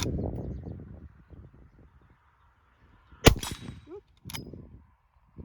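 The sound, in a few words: gunshots from a Rossi 92 rifle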